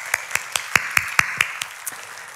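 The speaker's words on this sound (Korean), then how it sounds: "하나님께 박수로 영광을 드리겠습니다." Congregation in a church clapping in unison, about nine sharp, evenly spaced claps over a couple of seconds, fairly close with no talk over them.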